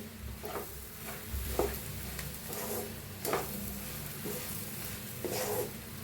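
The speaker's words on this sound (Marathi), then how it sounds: "आता याला पुन्हा सगळं मिक्स करून घेऊया।" A puffed-rice breakfast dish with lemon juice, salt and sugar is stirred and mixed in a pan, a spoon scraping in repeated strokes over a low continuous sizzle, close and moderately loud.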